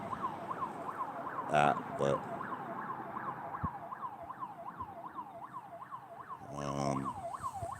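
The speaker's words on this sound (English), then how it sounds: "there's sirens going off over," Emergency vehicle sirens wail steadily from a distance, a repeating rising-and-falling tone under scattered bumps and brief speech near a property.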